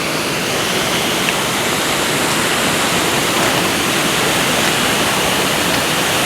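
A rushing river at a waterfall roars as a loud, steady, unbroken wash of white water, close by and alone, with no voices over it.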